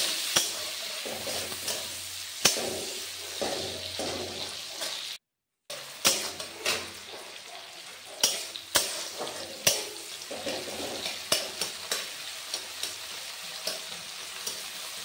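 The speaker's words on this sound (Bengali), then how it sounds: "পেঁয়াজ আর টমেটোটা একটু হালকা আছে ভালো করে ভেজে নেব" Onion and tomato fry together in a pan with a continuous close sizzle, broken by sharp scrapes and clacks of a spatula stirring and one brief cut to silence.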